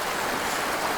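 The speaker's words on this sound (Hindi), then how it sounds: "बहता हुआ पानी" Steady, close rushing of a flowing stream, an even broadband wash of water with no breaks over about a second.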